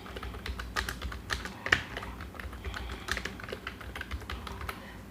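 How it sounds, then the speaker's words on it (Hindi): Steady typing on a computer keyboard, with fast, uneven key clicks close to the mic and one louder keystroke partway through, and no voices. "मैं टाइप करूँगा।"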